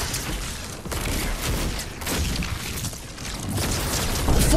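Thunderbolt of Zeus, a mythic weapon in Fortnite, fires with continuous crackling, booming bursts that roll on for the whole stretch, loud and dense, with no speech over it.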